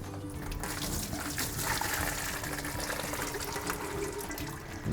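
Water draining from a pot of cooked fabada beans, a steady splashing pour close by, continuous and fairly quiet, with no talking.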